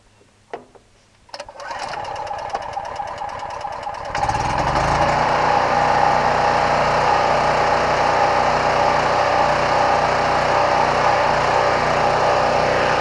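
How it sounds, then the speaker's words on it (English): A small gasoline engine catches after a few pulls and runs on choke, settling into a loud, steady high-pitched drone close to the microphone that grows louder partway through, with no talking. "I'm fumbling around trying to get it off a choke before it dies out"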